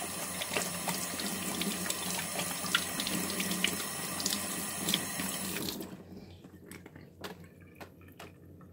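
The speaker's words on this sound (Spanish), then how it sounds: "Enjuaga." Hands rinsed under a running tap after scrubbing with baking soda and vinegar: a steady, close water stream splashes into a sink for about six seconds, then cuts off, leaving faint drips and small handling sounds.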